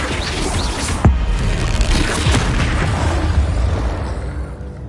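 Flipendo spell cast in Hogwarts Legacy: a sharp, loud impact burst hits early, then dense rumbling and whooshing effects carry on and slowly fade.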